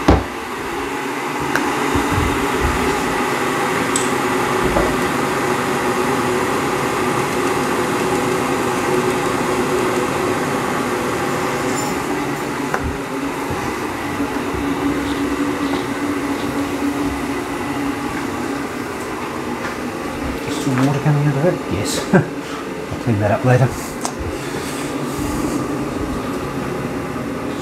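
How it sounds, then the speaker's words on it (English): An electric kettle heats water for a curry stock, giving a steady rumbling hiss that holds for almost half a minute, with a few light clatters toward the end. "So once the kettle boils,"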